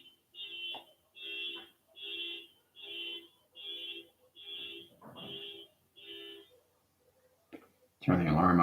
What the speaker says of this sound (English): Turn the alarm off of the car there.